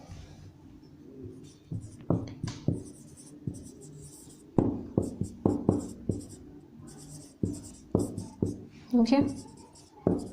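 Marker or chalk strokes on a board during a maths lesson on cylinder volume, a run of short scratchy squeaks in irregular bursts, close and clear, with a brief spoken word near the start.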